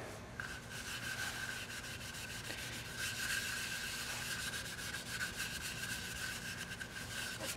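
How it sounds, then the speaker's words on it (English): Steel wool scrubbing Noxon metal polish into rusty chrome, a steady close rasping rub that continues without pause and without any talk. "just get a piece of steel wool, get some Noxon on it, and then just start rubbing it in."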